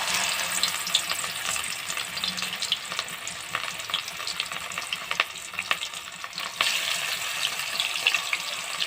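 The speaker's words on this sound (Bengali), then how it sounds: "মাছটাকে আমি আগে নুন হলুদ মাখিয়ে ভেজে নিচ্ছি" Bhetki fish pieces rubbed with salt and turmeric fry in oil for a curry with potato and cauliflower, giving a dense, continuous sizzle close by, broken by stirring and the clatter of a utensil.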